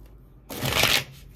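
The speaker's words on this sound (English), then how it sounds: "One more shuffle." Tarot cards being shuffled by hand in one short, close riffle that starts abruptly and fades after about half a second.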